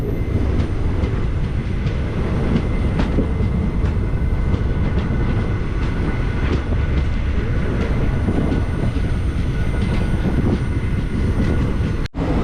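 A passenger train running on the Guruvayur to Tenkasi line as it reaches Thenmalai station, a loud, constant rumble of wheels and carriages heard from on board, ending in a sudden sharp cut.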